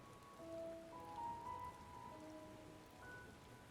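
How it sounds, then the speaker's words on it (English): Soft steady patter of rain in the video game Final Fantasy XIV: Endwalker, with faint tonal music notes drifting over it, quiet and continuous. "Oh, and it's raining."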